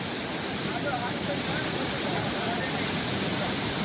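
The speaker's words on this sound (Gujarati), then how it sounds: "પાણી એટલું વહે કે અહીંયા ઊભા પણ દેતું નથી." Floodwater rushing through a broken embankment on the Ojat river during heavy monsoon rain near Dwarka, a dense, continuous roar of fast water, loud and close, with no distinct breaks.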